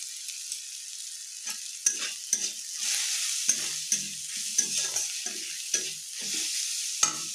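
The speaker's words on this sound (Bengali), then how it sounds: "দেখুন পেঁয়াজটা আমার অনেকটা সুন্দর ভাজা হয়ে এসেছে। এবার আমি হলুদ গুঁড়ো দিয়ে দিলাম" Onions with salt and turmeric frying in an oil-filled pan, a steady close sizzle broken by repeated scraping stirs of a spatula, with no talking.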